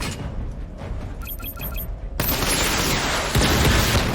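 A missile barrage firing in the video game Batman Arkham Knight: a few bright electronic beeps, then a sudden loud blast of dense rushing noise, with a second heavier burst near the end.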